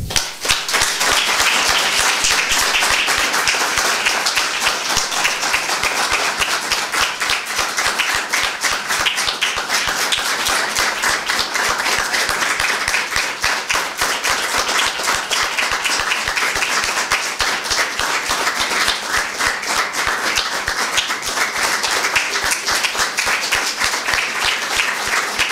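Sustained audience applause at a poetry evening, dense steady clapping from a crowd lasting the whole stretch at an even loudness, with no talk over it.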